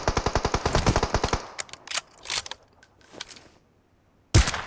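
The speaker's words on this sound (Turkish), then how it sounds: "Serhat, daha yeni vurdum seni be" Rapid bursts of automatic gunfire from a PUBG match, a fast rattling volley followed by a few scattered single shots and a sharp final blast after a brief silence.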